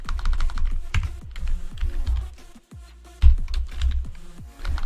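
Bash script being typed on a computer keyboard, rapid close key clicks in uneven bursts with a brief pause midway and a heavier keystroke after it.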